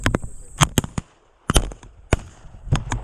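Sharp shotgun blasts during a European-style pheasant hunt, several loud, close cracks in quick succession with brief gaps between, some echoing slightly.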